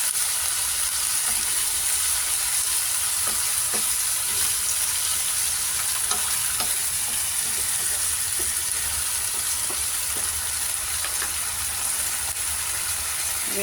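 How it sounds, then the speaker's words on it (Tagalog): Ingredients for salmon belly sinigang are sautéed in a pan, producing a loud, continuous frying sizzle with light scattered crackles and stirring scrapes and no pauses. "Paggisa na siya."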